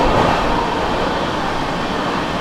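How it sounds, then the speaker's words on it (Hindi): A dense, loud, steady rumble and rush of a moving train, the Vikramshila Express, as heard while it overtakes the Mumbai Howrah Mail. The roar holds constant throughout with no distinct clacks and no talk. "एक और ओवरटेक मारा यहाँ पर जो है विक्रमशिला एक्सप्रेस ने मुंबई हावड़ा को"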